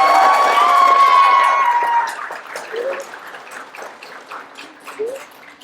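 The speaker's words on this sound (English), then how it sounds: "You can clap, it's okay." Wedding guests burst into cheering with bright whistle-like tones and crowd noise, then scattered clapping continues more softly for several seconds.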